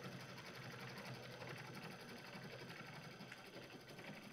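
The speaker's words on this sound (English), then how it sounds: "I will just hit my start button and it's going to jump to where it needs to go and sew out that design" An embroidery sewing machine stitches a design onto a tote bag, giving a steady, fast mechanical chatter that runs without a break, close and alone.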